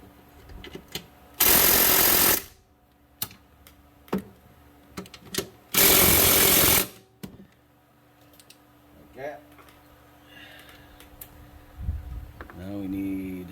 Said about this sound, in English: I'm gonna hit these bolts over here, the mounting bolts one more time